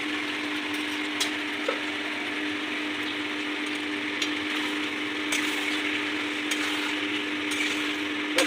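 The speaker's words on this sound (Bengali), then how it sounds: "এবার চিকেনগুলো ছেড়ে দেবো।" Chicken pieces for chilli chicken sizzle steadily in a hot pan, a constant hiss with occasional faint knocks and scrapes of a utensil.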